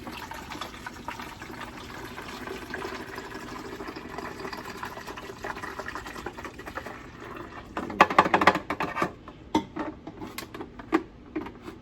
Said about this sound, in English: I'm going to just pour the full bottle in there.